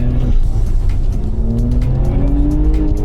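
A 700 bhp Audi RS4 engine revs loudly up close on a track, its pitch climbing steadily as it accelerates, with a hint of tire noise and no talking.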